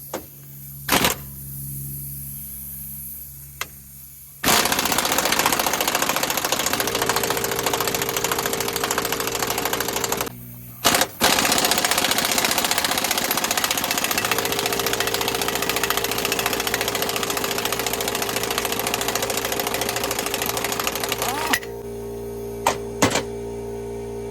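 Air-powered impact wrench taking bolts off a New Idea manure spreader on a flatbed trailer, heard as loud sustained mechanical rattling and whirring in long bursts separated by brief pauses, with a steady compressor-like drone underneath.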